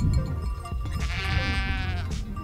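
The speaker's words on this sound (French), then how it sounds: "les brebis." Sheep bleat on a mountainside, a single drawn-out bleat rising clearly above low wind and background rumble, fairly close and alone.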